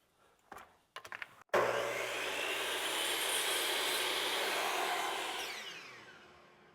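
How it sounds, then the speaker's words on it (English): A power tool trims a wooden tenon on an old rocking horse under restoration. A few brief knocks come first, then a loud, steady whirring grind runs for about four seconds and fades out. "I'm going to trim this tenon here."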